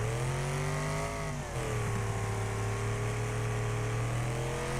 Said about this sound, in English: Car spinning around in the middle of the track.